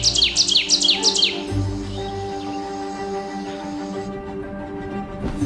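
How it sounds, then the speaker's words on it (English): Wild songbirds in a winter forest give a rapid run of bright chirps at first, then thinner calls continue over a soft, steady background. "Their melodious calls often wake us."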